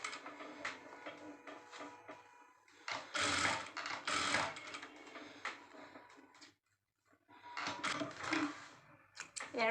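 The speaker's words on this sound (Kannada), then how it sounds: "ಈ ರೀತಿ ನೀಟಾಗಿ ಫೋಲ್ಡ್ ಮಾಡಿಕೊಂಡು ಮೇಲೆ ಒಂದು ಸ್ಟಿಚ್ ಹಾಕ್ಕೊಳ್ಳಿ" A sewing machine stitching down the neatly folded cloth of a lehenga belt, running in short rapid bursts of ticking stitches separated by pauses, close and fairly quiet.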